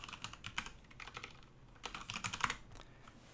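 A computer keyboard clatters as a Linux command is typed, a quick burst of close, light key taps with short pauses between groups.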